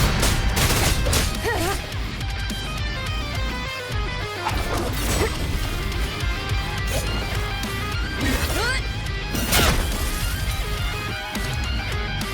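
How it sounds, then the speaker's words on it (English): Video game combat in Wuthering Waves, with repeated crashing mortar explosions and impacts over a constant bed of music and effects, loud and dense, with occasional voices. "Another mortar thrown at us."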